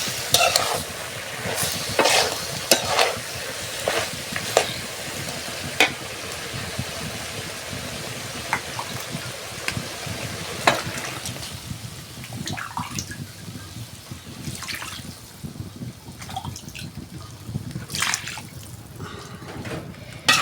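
Dried fish curry frying in a pan as broth is poured in and stirred: busy sizzling with rapid spoon scrapes and clinks up close, then a watery bubbling and softer hiss, with no voices.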